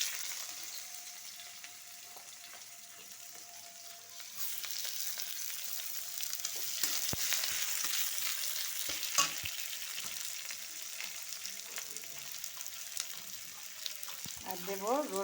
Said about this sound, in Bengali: এবার দিয়ে দেব কড়াইতে পেঁয়াজ কুচি